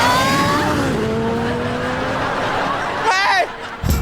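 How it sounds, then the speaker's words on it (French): A toy-like super motorbike's engine starts and revs in a kids' TV comedy, its pitch sweeping up and down in steady tones, with a voice talking over it and a brief burst near the end. "c'est vous qui avez allumé le moteur?"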